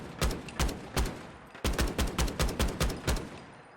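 Semi-automatic 5.56 fire from a modded Steyr AUG rifle in Fallout 4, about a dozen loud, sharp single shots in an uneven rhythm with a short gap partway through, each with a brief echoing tail.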